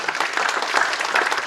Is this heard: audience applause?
yes